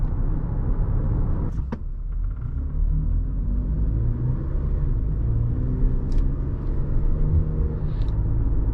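A deep V6 engine rumble drones steadily as a 2021 Toyota Highlander XSE AWD accelerates smoothly, heard from inside the cabin, with a couple of faint clicks.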